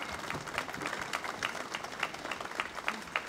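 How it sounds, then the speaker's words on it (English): An audience applauds at a Veterans Day ceremony, a steady wash of clapping from many hands that runs throughout without letting up, with a few sharper individual claps standing out near the front. "Let's give them a round of applause."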